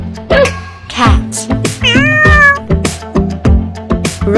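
A cartoon cat meows repeatedly up close, loud, with several drawn-out rising and falling cries mixed with shorter bursts and clicks.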